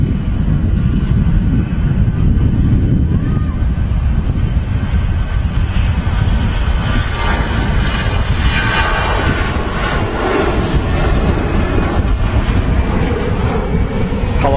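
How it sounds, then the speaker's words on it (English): An EasyJet airliner rolls down the runway at Manchester Airport on its takeoff run, its jet engines a loud, steady roar that swells and shifts as the aircraft passes, with some wind buffeting on the microphone and no talk. "Just rolling on the runway is EasyJet's Whiskey Alpha."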